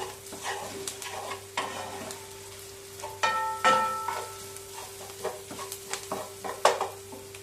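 Onions frying with pepper paste being stirred in, a steady low sizzle broken by scrapes and clinks of a utensil against the pan, a sharper knock near the end.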